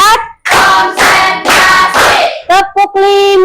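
Hand claps from a classroom ice-breaker clapping game, several loud, sustained bursts of many hands clapping together, then a few short separate claps at the end.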